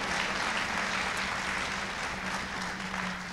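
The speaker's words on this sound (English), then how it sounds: "Give her a round of applause, because that lady was awesome." An audience at a comedy talk applauds in a dense, steady wash of clapping that holds at a constant level throughout, with no voices over it.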